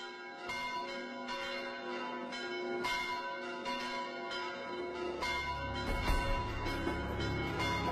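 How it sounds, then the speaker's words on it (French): Church bells peal continuously in Spain, calling to Sunday mass, several bells ringing in overlapping strokes with a rich, resonant tone, fairly loud and unaccompanied by voices. "les cloches appellent à la messe du dimanche"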